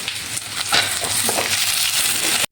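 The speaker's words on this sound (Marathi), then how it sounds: "त्याच्यात टोमॅटो टाकू" Tomatoes frying for paneer gravy give a steady, close sizzling hiss in the pan, with scattered small crackles and no talking.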